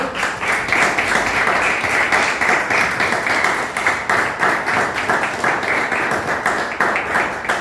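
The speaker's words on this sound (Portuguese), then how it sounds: "Vamos dar uma salva de palmas ao Senhor." A church congregation claps for the Lord, a steady, dense wash of many hands filling the space at full volume for several seconds without pause.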